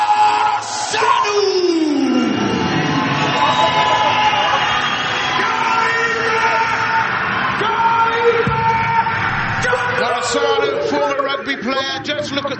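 Kickboxing arena crowd at a Superkombat event cheering fighter Catalin Morosanu: a loud, sustained roar of yelling, whooping and shouting fills the whole stretch, with tonal music-like lines threaded through the din.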